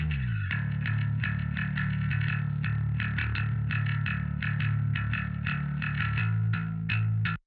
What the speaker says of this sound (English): I took that bass performance and I ran it through a Fender Bassman